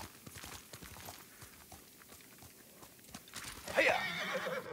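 A horse whinnies amid clopping hooves in the samurai video game Ghost of Tsushima, steady hoofbeats building to a loud neigh near the end, with faint ambient noise.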